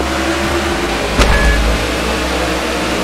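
A race car passing in the video game NASCAR The Game Inside Line 2012, a steady engine drone with a brief, sharp whoosh as another car goes by close, and no talk.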